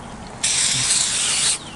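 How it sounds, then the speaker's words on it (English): Olive oil spray can hissing onto a raw tomahawk steak at a Weber kettle barbecue, one continuous close spray burst of about a second, with quiet background before and after. "Bit of spray on olive oil just so the bloody salt and pepper sticks a bit better."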